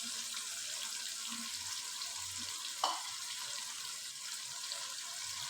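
Finely diced potatoes frying in a pan for chickpea pulao, giving a steady soft hiss of oil at low volume with a brief clink of a utensil midway and no talking.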